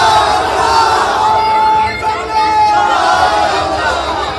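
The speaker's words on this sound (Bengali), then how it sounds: "মুহুর্মুহু শুরু হয় জয় বাংলা স্লোগান।" A dense crowd at the Calcutta University gate on its 176th Foundation Day chants Joy Bangla slogans in a sustained, loud roar of massed voices, steady and close with little pause.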